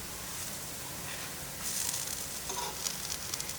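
Sliced green plantain frying in a pan after being flipped, a soft, steady sizzle that turns louder and more crackly partway through, with light spatula scraping.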